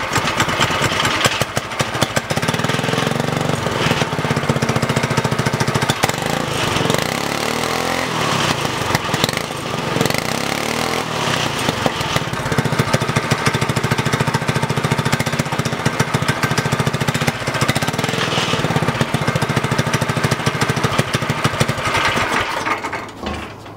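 A homemade go kart's Predator 212cc single-cylinder engine runs loud and close, revving steadily with a dense, buzzing roar that holds throughout.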